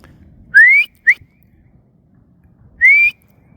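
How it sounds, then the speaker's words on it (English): A person whistles to call two dogs back from the far corner of an open area: two long rising whistles with a short chirp between them, loud and clear against quiet outdoor background. "I just whistle and here comes the girls"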